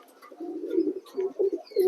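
A pigeon coos close by in soft, throaty bursts, a few low murmuring calls in quick succession with faint chirps above.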